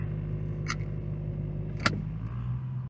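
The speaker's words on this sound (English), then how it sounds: "The car still has that weird drone at 900 RPM." An Infiniti M45's engine drones low and steady at about 900 RPM, heard from inside the car on a highway, with a couple of faint clicks over the constant hum.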